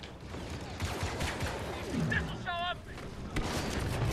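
Grenade blasts and gunfire crowd a corridor in Star Wars Battlefront 2, with a dense, continuous barrage of bursts and booms and a brief warbling electronic tone partway through, while a voice talks over the din.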